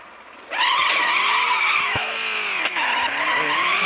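A car drifts in a video game, tires squealing continuously and loudly for several seconds under steady engine noise, with small bumps and shifts in pitch as the slide continues.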